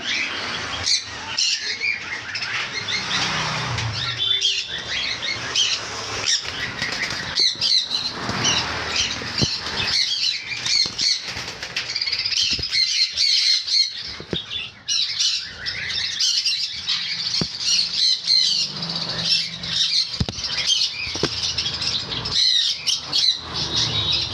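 Semi-adult sun conures squawk loudly and continuously, shrill calls overlapping with chirps and occasional wing flaps, packed close together with no pause.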